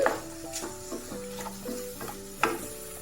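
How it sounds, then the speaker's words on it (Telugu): Finely chopped capsicum is stirred into a sizzling masala in a pan, with a steady frying hiss, soft scraping strokes of a spoon and a couple of sharper clinks against the pan. "అందులో ఒక పెద్ద సైజు క్యాప్సికమ్ సన్నగా తరుక్కున్నది దీన్ని వేసి ఒకసారి మిక్స్ చేసుకొని"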